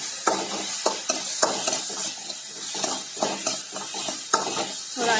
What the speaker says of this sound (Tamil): இதை நல்லா வதக்கிக்கணும்.